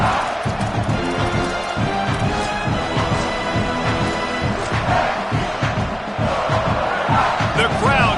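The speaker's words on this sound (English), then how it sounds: "The crowd getting behind this defense as they try to get a stop in the red zone." Loud, dense football stadium crowd roaring and cheering in support of the defense at a red-zone stand at South Carolina, a sustained wall of noise with rhythmic swells throughout.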